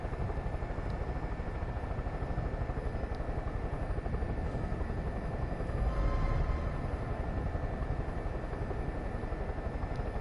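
A helicopter flies in Far Cry 5, its rotor thumping as a steady low pulse that runs unbroken for about ten seconds. The sound stays close and fairly loud, with a brief swell near the middle and no voices.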